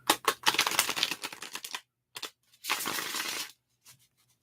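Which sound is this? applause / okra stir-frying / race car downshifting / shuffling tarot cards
shuffling tarot cards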